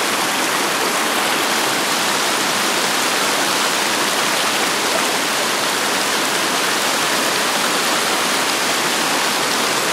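Swift stream water rushes steadily, a loud, dense, unbroken hiss of flowing current heard close and alone throughout.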